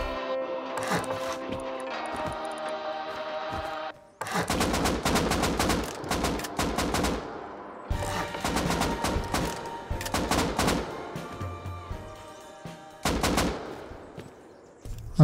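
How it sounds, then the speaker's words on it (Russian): Dense bursts of rapid gunfire crackle almost continuously, with automatic volleys and heavier shots from a video game, loud and close, no talking. "Откуда он стреляет, я вот этого понять не могу."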